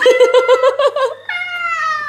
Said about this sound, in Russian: сейчас из Одессы будут коты сбегаться.